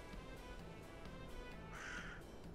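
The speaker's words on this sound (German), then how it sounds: "Wir wollen den Vögeln ein paar Löcher verpassen" Crows cawing in the video game S.T.A.L.K.E.R. Clear Sky, several harsh caws in an irregular rhythm over a faint ambient game background, quiet overall and with no talk.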